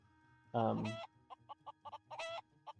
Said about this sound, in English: So if you put chickens in your farm, they do reproduce